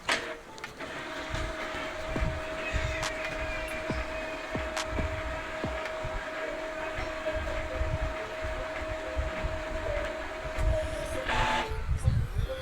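An Epson printer runs its automatic print head cleaning cycle, giving a steady mechanical hum and whir with a sustained tone, scattered clicks as the head moves, and a brief shift near the end.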